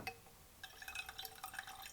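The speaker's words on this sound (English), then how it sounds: "So now we add some water." Water trickles and drips into a glass of Islay whisky, a faint, close pour with small splashes and liquid clinks in a quiet room.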